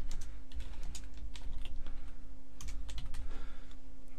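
Steady typing on a computer keyboard, with close, quick, evenly spaced key clicks over a faint constant electrical hum, and no one speaking.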